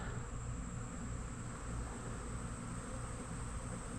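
Honeybees stream from their colonies toward feed, a faint, steady, even buzzing hum that carries on without a break and without any talking.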